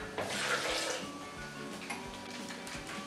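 Water is poured into a blender holding raw cashews, a close, continuous splashing trickle that slowly fades over a few seconds, with no talk.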